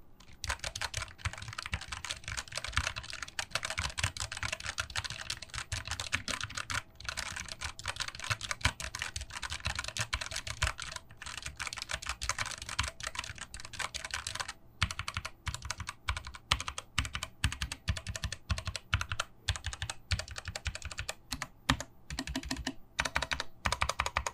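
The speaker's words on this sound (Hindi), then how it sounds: "हमारा ये कीबोर्ड ऑटीमो ब्राउन स्विचेस के साथ है जिसकी साउंड हमारे साउंड टेस्ट में कुछ यूं है" Rapid, continuous typing on a Redragon K630 60% mechanical keyboard with Outemu brown switches, dense clicky-thocky keystrokes at close range with no talking.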